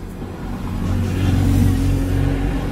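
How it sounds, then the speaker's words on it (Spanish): A BMW i3 electric car accelerating hard on narrow tyres, a steady road and motor roar that swells and holds loud and close throughout, with no voices. "vas a ver la aceleración que da sin derrapar"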